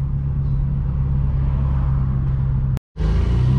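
Steady, loud droning rumble from a straight-piped BMW M4 F82 cruising on city streets, cut off by a sudden short silence before the deep exhaust drone resumes.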